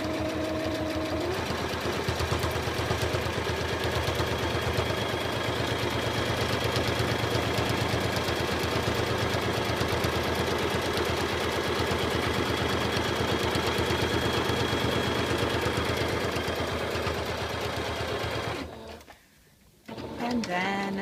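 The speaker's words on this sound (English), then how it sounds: "keeping tension on the diaper, holding on to the anchor point, I'm going to sew along those lines." Sewing machine stitching new elastic into a cloth diaper, a steady fast mechanical whir running close and loud for most of the stretch before stopping abruptly near the end.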